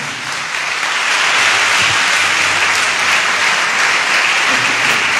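A church congregation at a Catholic Mass in Lahore breaks into sustained applause, a dense, steady wash of many hands clapping that fills the space, loud and continuous with no speech over it.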